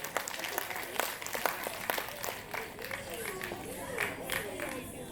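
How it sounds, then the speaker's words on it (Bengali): An audience applauds as the student of the year is announced at an awards event, steady crowd clapping from across the room while a voice speaks over it throughout. "জোরে হাততালি পাপড়ির জন্য।"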